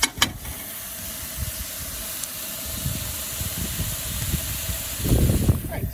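Tomatoes simmering in a one-pot pasta over a camp stove outdoors, a steady low hiss and bubbling sizzle running throughout, with a brief louder burst near the end.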